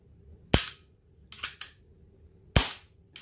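A Hahn Super BB repeater air gun being charged gives sharp, close clicks and snaps, two strong single cracks with a quick cluster of lighter clicks between them, in an otherwise quiet room.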